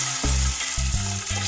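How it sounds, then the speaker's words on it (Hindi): Chicken pieces and onions frying in about half a cup of oil, giving a loud, dense sizzle with a few heavy low thumps as the food is moved around; no speech. "अब हम चिकन को फ्राई कर लेंगे।"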